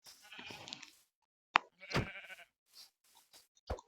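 Sheep bleat in a video game, several short separate calls, one longer wavering bleat followed by brief sharper ones, close and clear with no talk.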